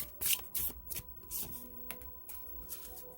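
Tarot cards shuffled and drawn during a love reading, giving a run of crisp, close papery riffles and flicks in uneven bursts, with no talking.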